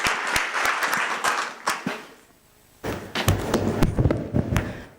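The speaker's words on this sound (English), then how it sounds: "Let's give a proper round of applause." Conference audience at an African investment event breaking into hearty applause, dense clapping with occasional thumps, briefly dipping then surging again close and loud.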